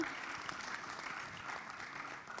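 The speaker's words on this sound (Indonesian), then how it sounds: "kita berikan tepuk tangan" A discussion audience gives a round of applause, a fairly faint, steady patter of clapping heard from a distance and lasting a couple of seconds.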